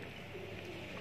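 Soft cooing of pigeons eating grain, over a steady background hum, low and continuous with no talking.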